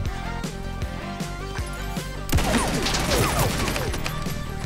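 SMG gunfire in the battle royale game Realm Royale: a brief patter of shots, then a dense crashing burst of rapid fire that keeps going to the end of the clip, loud and close, with no speech.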